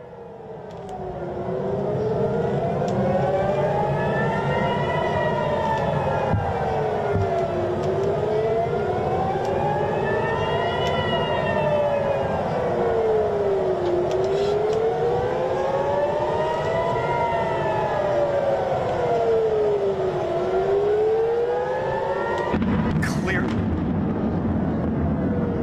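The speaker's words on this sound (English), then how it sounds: "I thought I might have heard siren." An air raid siren wails over Tel Aviv at night during an Iranian missile attack, its tone rising and falling in slow repeated cycles over a constant rumbling background, cutting off abruptly near the end.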